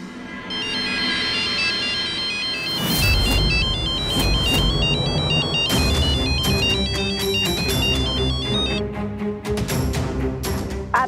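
A phone ringtone plays loudly as a repeating melodic electronic tune, layered over dramatic background music with heavy percussive hits, continuing for about ten seconds with no talking.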